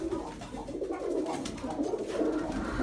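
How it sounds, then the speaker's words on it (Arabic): Pigeons coo in a loft, soft repeated throaty calls overlapping near and close, with a faint background murmur. "هاجي اخش بقى على الحمام."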